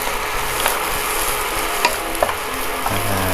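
Onion stir-fried in a pan for a clean chicken and sweet pepper dish, a steady soft sizzle with a few light scrapes and taps of the spatula, no voices.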